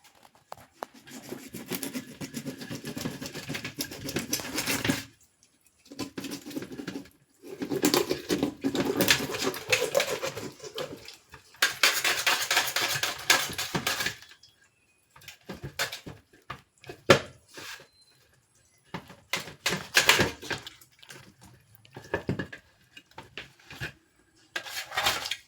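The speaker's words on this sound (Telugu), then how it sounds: "నేను ఈ ఫిష్ని ఇప్పుడు కట్ చేద్దాం." A 2 kg fish being cut into pieces, with long scraping and rasping knife strokes in several bursts, separated by brief pauses and a few sharper taps.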